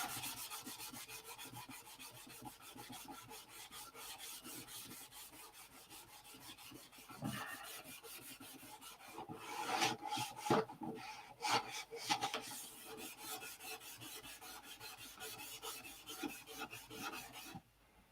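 Steady rhythmic hand sanding of a P-47 model airplane, a dry scratchy rasp repeating in quick strokes close up, with a few louder scrubbing passes midway.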